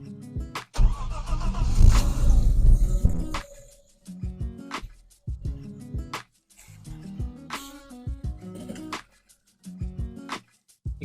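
A BMW E34 525i with the M20 engine cranks and fires up, settling into a loud, rough rev. A series of separate clicks and knocks from work on the car follows, close up with no talking.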